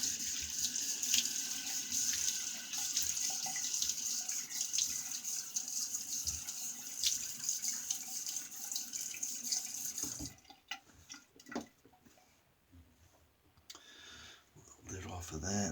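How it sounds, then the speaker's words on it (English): Tap water runs steadily from a faucet for about ten seconds while the face is wetted before a wet shave, then stops, leaving a few faint clicks and small handling sounds. "Let's go ahead and wet the face."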